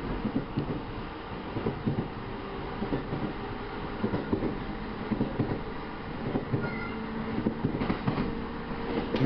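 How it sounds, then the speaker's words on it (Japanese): Riding a train on the Iida Line as an EF66 freight locomotive in freight livery goes by: a continuous rail rumble with rhythmic clickety-clack wheel beats and faint squeals, loud and close throughout. "EF66 型の貨物色ね。"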